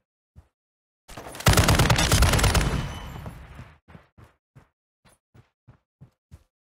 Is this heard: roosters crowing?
no